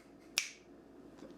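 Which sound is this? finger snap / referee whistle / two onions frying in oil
finger snap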